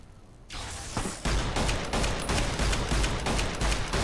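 Heavy .50 cal gunfire in Fallout New Vegas, a loud, close burst of repeated booming shots in an uneven rhythm over dense battle noise.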